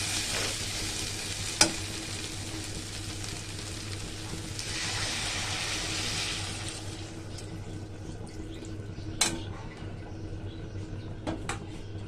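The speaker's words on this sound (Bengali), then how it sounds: "সয়াবিনটা কষানো হয়ে গেছে, এবার একটু জল দিয়ে দেব।" Soybean masala frying in a pan as water is poured in, a broad hissing sizzle that swells then settles, with a few sharp clinks of a utensil against the pan.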